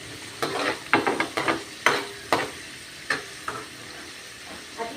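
Vegetables being sautéed in a pan for a budget home meal, with a spoon scraping and stirring in sharp, irregular strokes over a quiet background sizzle.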